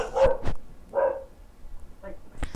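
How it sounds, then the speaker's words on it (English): A pet dog barks several times in the background, short separate yaps spaced out, fairly faint and somewhat distant from the microphone. "My dog is barking in the background."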